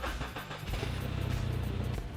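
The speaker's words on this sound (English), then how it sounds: "we can go start the forklift." A forklift engine cranks and catches, a short churning start that settles into a steady low rumble, close and fairly loud with no talking.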